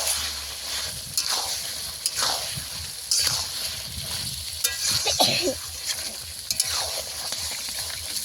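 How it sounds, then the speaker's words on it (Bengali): Chicken skin sautéing in oil in a pan, a steady sizzle broken by repeated scraping stirs close up, with no talk. "ভালোভাবে আমি কষিয়ে নিয়েছি, এটা থেকে তেল ছাড়তে শুরু করে দিয়েছে।"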